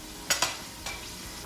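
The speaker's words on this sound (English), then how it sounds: "Okay, so the ground beef is all browned up." Ground beef browning in an Instant Pot gives a soft, steady sizzle, with a few quick scrapes of a utensil against the pot, close by and fairly quiet.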